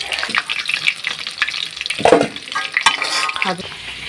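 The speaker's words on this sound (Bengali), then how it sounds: "তেলগুলো মাছগুলো দেখতে পাচ্ছ ভাজা হয়ে গেছে।" Fish pieces fry in hot oil in a pan, crackling and sizzling loudly and up close, with repeated scraping stirs and clinks of a spatula as the fried fish is turned and lifted out.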